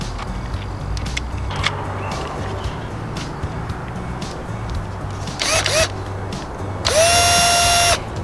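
A cordless drill fitted with a socket whirs in a couple of short bursts, raising an RV scissor jack, the second burst longer and louder, against steady outdoor background noise.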